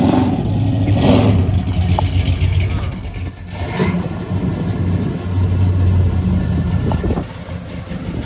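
Custom 1977 Oldsmobile Cutlass engine running and revving nearby, a steady low rumble with swells in intensity, while people talk over it.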